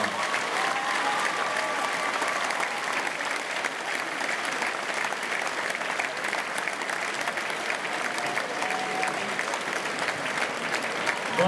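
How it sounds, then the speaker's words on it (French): Dense, sustained applause from a large audience at a circus artists' festival award ceremony in Saint-Paul, steady and even throughout with no breaks. "On peut les applaudir très très fort."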